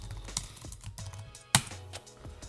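Typing on a computer keyboard, a quiet, close run of irregular soft key clicks with one sharper louder tap midway, no talking.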